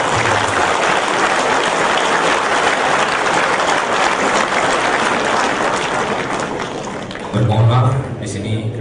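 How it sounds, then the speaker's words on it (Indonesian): Dense, sustained applause from a crowd at a Malay political speech event honouring a Tan Sri, loud and continuous before tapering off, with a brief burst of voices near the end. "Tepukan kepada Tan Sri."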